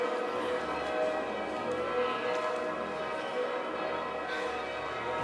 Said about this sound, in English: Can you hear the bells, guys?